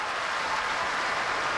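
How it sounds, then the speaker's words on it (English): Applause sound effect played on a sports radio show, a short, steady burst of clapping and cheering at moderate level, heard alone. "I'll give some applause for that."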